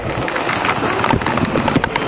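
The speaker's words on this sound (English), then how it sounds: "You can tell the rain's gotten pretty fucking awful." Rain beats down hard and close on a motorcyclist riding a wet road in India, with gusty wind noise buffeting the microphone.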